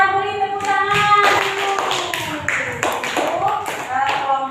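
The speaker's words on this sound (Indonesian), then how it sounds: "Kita beri tepuk tangan" Classroom clapping for a student group, a burst of tapping hands heard close and mixed with overlapping children's voices and shouts.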